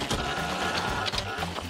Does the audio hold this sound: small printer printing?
yes